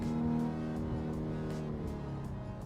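A car engine in the PC racing game Assetto Corsa, modded, drones steadily with a strong tonal hum that eases slightly in pitch, loud and close with no talking.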